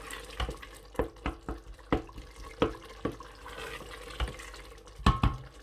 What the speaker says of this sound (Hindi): दूसरे नंबर पे आप उसमें पानी फिर ऐड कर सकते हैं।